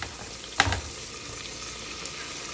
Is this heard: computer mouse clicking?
no